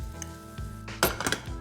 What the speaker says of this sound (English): Add the mushrooms to the pan